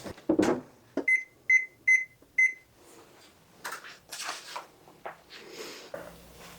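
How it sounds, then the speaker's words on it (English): A kitchen oven timer is set for a batch of Christmas cookies, giving four short, evenly spaced electronic beeps up close, followed by soft handling and rustling noises. "I'm going to set the timer on 12 minutes"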